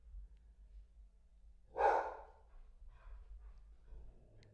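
A puppy gives a single short bark, fairly close and clear against a quiet room, followed by faint rustling and breathing-like sounds.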